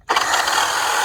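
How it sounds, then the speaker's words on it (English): A reciprocating saw fitted with a metal-cutting blade cuts nails hidden behind a door jamb, starting abruptly and holding a loud, close, continuous buzzing rasp. "we take our reciprocating saw with a metal cutting blade, and we're just going to go back behind the jamb here and just cut any nails"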